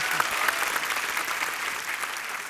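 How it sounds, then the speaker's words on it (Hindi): A studio audience at a comedy show applauds steadily, dense clapping filling the whole stretch at an even, fairly loud level. "तालियां"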